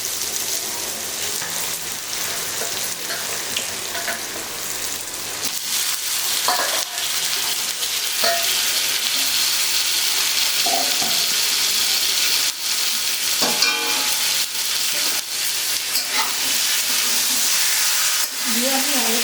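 Chicken pieces sautéing in spice masala for Bengali chicken kosha, a steady loud sizzle with repeated stirring scrapes and clinks throughout.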